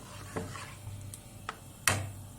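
Hot pasta-soup broth is poured into a yogurt mixture and stirred, giving a few sharp spoon clinks against the bowl over a soft liquid background, spaced irregularly and fairly close.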